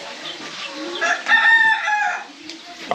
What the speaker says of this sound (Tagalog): Nagpapakain pa po siya ng manok.